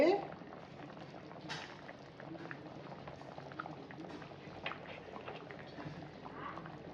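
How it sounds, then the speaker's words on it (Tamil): A pot of sardine fish curry bubbles steadily at a low level, with soft continuous popping and simmering and no talk over it. "பாருங்க மீன் குழம்பு நல்லா கொதிச்சிருச்சு."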